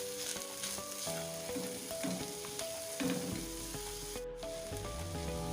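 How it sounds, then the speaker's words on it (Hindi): Chopped onions softening in a pan over low heat for a chicken samosa filling, giving a steady close sizzle and frying crackle with some stirring, heard under music with no talking. "1 से 2 मिनट इसको हल्की दम वाली आंच पे पकने दें ताकि प्याज थोड़े से हमारे नरम पड़ जाएं"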